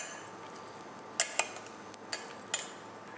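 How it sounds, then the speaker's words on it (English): A spoon stirs tamarind sauce into salted water in a metal vessel, giving a few sharp clinks against the side over a soft, quiet background, with no talking. "So I will just stir it in."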